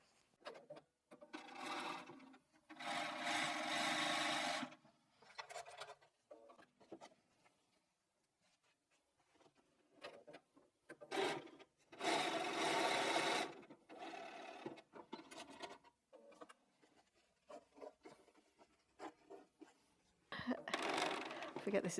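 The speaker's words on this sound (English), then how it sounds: "So let's go back and sew these again." Sewing machine with an automatic presser foot stitching pieces of a quilt pineapple block, running in several loud bursts of rapid whirring broken by pauses, with a person talking in between.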